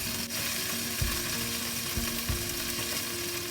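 Chopped carrots, broccoli, beans, zucchini and bell peppers sizzle steadily in a hot pan, with a few low knocks of a utensil against the pan over a continuous frying hiss.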